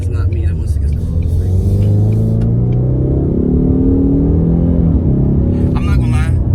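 A 2020 Ford Mustang with the 332 hp High Performance Package drives along rough roads, its engine giving a loud, steady low rumble with slight rises in revs as someone talks over it.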